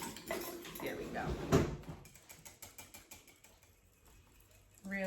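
A small whisk stirs vanilla rose melt and pour soap ingredients in a bowl, giving quick, light rhythmic ticking and tapping after a stretch of talking at the start.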